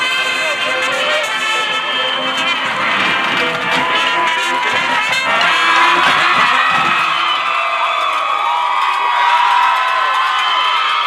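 Loud crowd cheering and whooping at a Pitman vs Atwater homecoming high school football game, a dense sustained roar of many voices with shouts rising and falling throughout, no clear talk above it.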